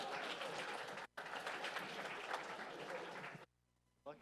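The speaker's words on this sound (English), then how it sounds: "Let's cheer for them." An audience claps and cheers for a student team at an event, a dense burst of applause that briefly drops out, continues, then cuts to silence before a short return at the end.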